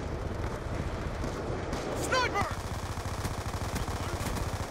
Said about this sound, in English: You can hip fire forever with this gun.